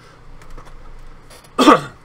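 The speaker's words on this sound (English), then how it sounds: "didn't mean to clear my throat" A single short, forceful throat clearing bursts out close to the microphone near the end, following a stretch of near-silence.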